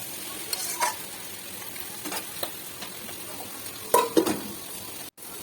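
Vegetables with neem leaves and drumsticks being stirred and fried with salt in a pan, a steady sizzle broken by a few scraping stirs of the spatula, close and moderately loud, with no talking.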